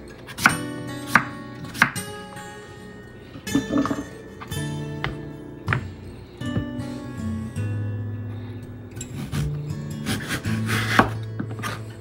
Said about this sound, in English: I slice sections off the pumpkin